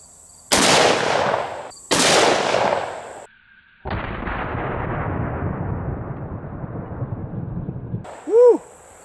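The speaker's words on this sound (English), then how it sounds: "We'll be using an FN SCAR 17, and we'll be loaded up with some 150 grain full metal jackets." An FN SCAR 17 rifle fires .308 150-grain full metal jacket rounds at a boat anchor outdoors: two sharp, loud cracks in close succession, then a longer blast that rolls away over several seconds before a brief high whistle.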